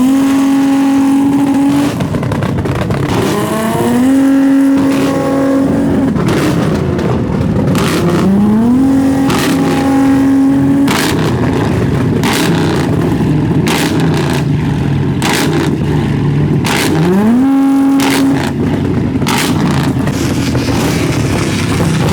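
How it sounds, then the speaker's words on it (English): A modified car's engine revs hard again and again in a burnout attempt, loud and near, with sharp rising pitch sweeps and crackling bursts over a continuous roar. "He was trying to do a burnout."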